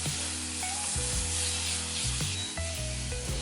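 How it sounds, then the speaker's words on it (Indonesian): Tomatoes with shallots and spices sautéing in a pan, a steady close sizzle with scraping stirs against the cookware and low clattering bumps, running continuously without voices. "Tumis semuanya sampai tomatnya ini layu dan tercampur ke semua bumbunya tadi."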